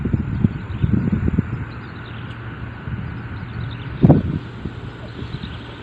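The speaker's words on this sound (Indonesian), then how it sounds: "ini angin kencang nih" Strong, gusty wind blows outdoors during a drone GPS flight test, buffeting the microphone with low rumbling bursts that swell early, ease off, then gust again near the end.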